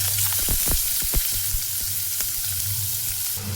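Chopped onions dropped into hot oil tempered with dried red chilli, bay leaf and whole cumin, for a green peas and egg dish: a loud, continuous close-up frying hiss with a few stirring knocks, no talking.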